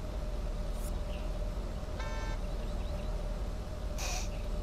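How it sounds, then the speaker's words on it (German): Car horns honking in the Autobahn Polizei Simulator video game during a traffic jam, two or three short toots over a steady drone of traffic, moderately distant, no talk. "Wie die Hupen"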